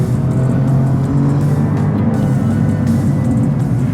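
Alfa Romeo Giulia Quadrifoglio sports sedan with an 8-speed automatic driving on a curvy canyon road, its engine a steady, loud low drone throughout with no one talking.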